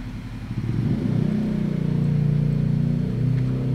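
Road traffic passing outside, cars and motorcycles, heard as a continuous low engine rumble that swells and holds with a revving, droning tone, somewhat muffled as if through walls, with no talking.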